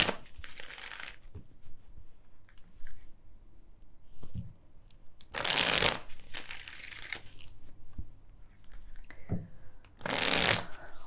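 Tarot cards are shuffled in several loud, crisp riffling bursts separated by quieter gaps with faint handling noises.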